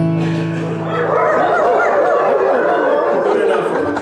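A crowd of audience members imitates dogs barking during a live folk performance, a loud, sustained mass of yips and bow-wows that swells after an opening held tone and continues to the end.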